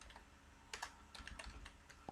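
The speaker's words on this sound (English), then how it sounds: "I can keep typing." Quiet typing on a computer keyboard while entering text into an Android app layout, with irregular bursts of soft key clicks close to the microphone.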